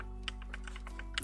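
Fast typing on a new computer keyboard during a TETR.IO game, with quiet close key clicks in a quick irregular run over low steady hum.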